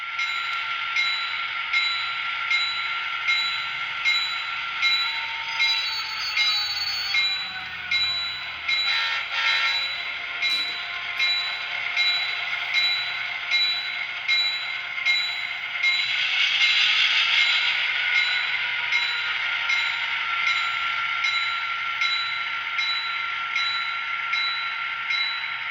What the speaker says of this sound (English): We're going to connect our train to the 2 cars on the siding.